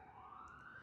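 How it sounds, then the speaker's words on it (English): Emergency siren passing outside, a faint distant wail holding a steady rising tone, heard from indoors with no talking over it. "I'm gonna let the siren pass."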